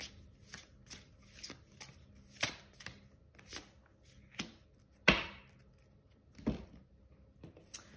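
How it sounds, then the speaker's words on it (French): Oracle cards being shuffled and mixed by hand, a series of crisp riffling and slapping bursts at irregular intervals, one sharper louder snap midway, close and alone with no talk. "On fait un petit mix de tous les oracles"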